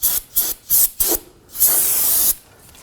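Brake cleaner is sprayed onto the rear brake rotor of a 2014-2020 Acura MDX in four short hissing bursts, then one longer sustained spray, close and loud.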